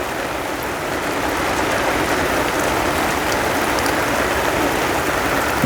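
Rain falls steadily on surfaces at home, making a dense, even hiss that stays loud and unbroken throughout, with no voices.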